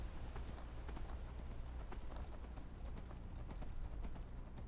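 Horse hooves clip-clopping on the road in Skyrim, a steady fast gallop of muffled thudding beats continuing without pause, close and moderately loud with no voices over it.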